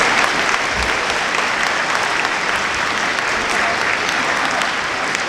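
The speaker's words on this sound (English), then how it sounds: "Please give another round of applause for Jason Smith." An audience at a school MLK assembly applauds with loud, dense, sustained clapping that fills the whole stretch without a break.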